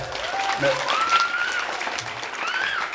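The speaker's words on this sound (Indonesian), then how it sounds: "Tepuk tangan untuk MI Nurun Najah." Applause for an Indonesian madrasah (MI) during a school supervisor's talk, steady crowd clapping throughout with overlapping voices and whistle-like tones above it.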